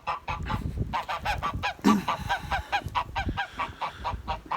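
A goose honks repeatedly close by, a quick run of loud nasal calls with a brief rustle partway through, near a farm that keeps quail and incubates goose eggs.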